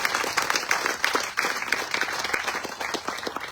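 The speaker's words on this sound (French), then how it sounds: "Un applaudissement pour moi, c'est le joueur." Audience applause at a French-language campaign event presenting a candidate's running mates, steady and dense clapping from a crowd, moderately loud and sustained without pause.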